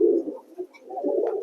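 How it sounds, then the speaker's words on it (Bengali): An American fantail pigeon coos close by in low, throaty rolling calls, a soft continuous burr with a short dip midway before resuming. "তো এটা একটা আমেরিকান ফ্যান্টেল পায়রা।"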